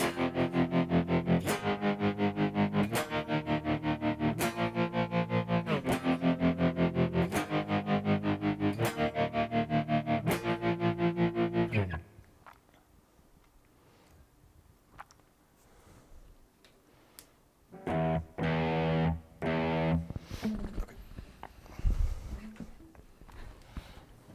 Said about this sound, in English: we strum it once and wait until we hear that tremolo repeat 4 times